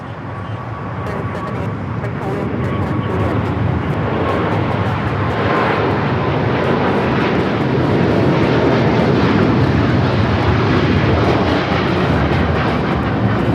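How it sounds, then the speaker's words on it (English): An EVA Air Boeing 777-300ER bound for Taipei takes off at Los Angeles airport, its engines building into a loud, continuous rumbling roar that swells gradually and holds steady. "Eva Air Flight 5 taking off to Taipei on the 777-300ER."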